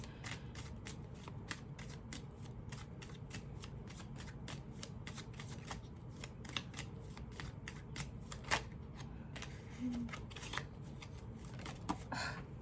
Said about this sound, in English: let me move these cards over because I just feel like we need more space here.